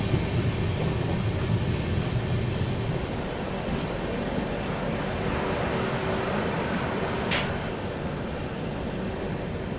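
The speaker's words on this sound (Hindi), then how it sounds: "ट्रेन अपनी मिर्ज़ापुर पहुंच रही है।" At night, the Sampoorna Kranti Express pulls into Mirzapur station with a steady, moderately loud rolling rumble and faint rail clatter, plus a brief high squeal near the end.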